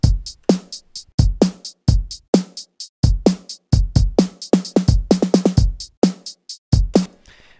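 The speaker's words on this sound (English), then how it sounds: "realistic, synthesized snare drum sound." An FM-synthesized snare drum made in Sytrus plays as a rapid series of sharp, punchy hits in a loose groove, some in quick flams and rolls, loud and close with no talking.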